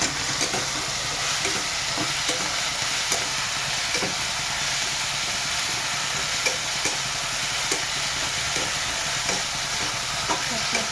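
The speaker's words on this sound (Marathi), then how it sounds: "तेलामध्ये पालक शिजला जाणार" Spinach fries in oil for dal palak with a loud, steady sizzle and hiss, broken by regular soft scraping strokes as it is stirred close up.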